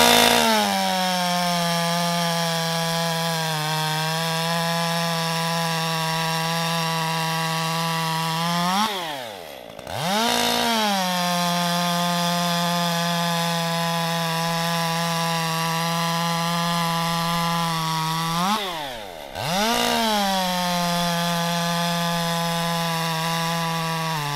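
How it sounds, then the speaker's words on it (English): A Stihl 201T chainsaw fitted with a Stihl 63 PM chain cuts through wood, a loud, close, sustained engine whine that dips sharply and recovers twice as each cut finishes. "I'm gonna slap these on the saw, cut some wood, see how they do."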